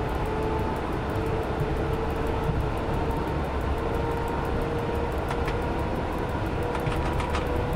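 Train driving in the SimRail simulator produces a steady rumbling engine and wheel drone with a faint tonal hum, continuous throughout, plus a few light clicks late on.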